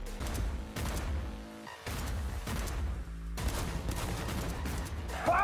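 Revolver gunfire in a video game, rapid bursts of shots clustered in dense volleys with brief gaps between them, loud and close, with game effects underneath.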